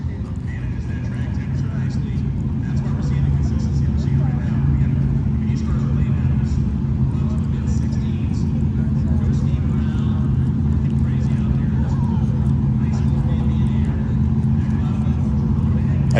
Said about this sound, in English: I'll have to wait till this car goes by.